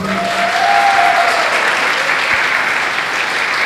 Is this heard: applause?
yes